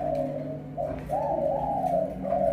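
Pet pigeons cooing close by in steady, overlapping low purring calls that rise and fall without pause, loud and clear with no talking.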